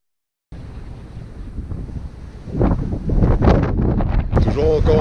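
Wind buffets and roars against the microphone on a motorcycle ride along the Carretera Austral, starting abruptly and growing into loud, gusty rushing with bursts of louder blasts.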